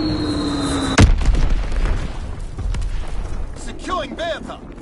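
A Blitz X bomb detonating in an online shooter, a sharp loud boom followed by a long rumbling decay under intermittent gunfire, with shouted voices and a warbling alert tone toward the end.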